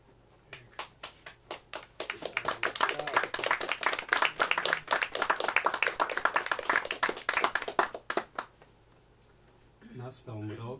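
Audience applause breaks out after a reading, a burst of sharp hand claps from a small crowd building and holding for several seconds before thinning out, followed by a short voice.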